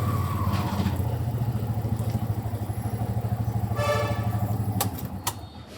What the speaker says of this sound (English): it's just the horns are a bit intense